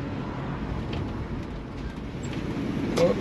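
A 1965 Oldsmobile Cutlass engine pulls steadily under acceleration, a broad continuous drone swelling slightly toward the end, heard from inside the car without talk.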